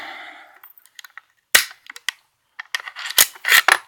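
Bolt being removed from a Savage Mark II F .22lr rifle, a series of crisp metallic clicks and slides, close and sharp, with a louder clack near the middle and several quick snaps at the end.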